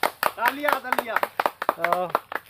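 Sharp handclaps ring out in a quick irregular run, close and loud, while a voice speaks and sings between and over them.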